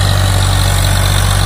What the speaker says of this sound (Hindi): ट्रैक्टर का दम देखो कितना दम है ट्रैक्टर में, आवाज पे कोई फर्क नहीं किसी भी तरह का